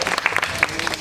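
An audience at a temple festival cultural meeting applauds, a brief burst of dense hand clapping that sounds close and lively, with a hint of voices underneath.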